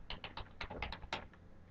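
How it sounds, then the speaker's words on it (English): Quiet, close computer keyboard keystrokes tap out a password in a short irregular burst of about ten presses. "type in your new password"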